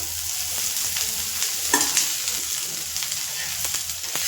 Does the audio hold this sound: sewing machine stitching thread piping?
no